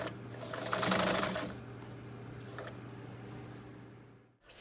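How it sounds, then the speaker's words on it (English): Sewing machine stitching the side seams of denim cut-off shorts, a quiet steady mechanical whir that swells briefly near the start, then runs on evenly before stopping. "Sew up both of your side seams, leaving the waistband alone"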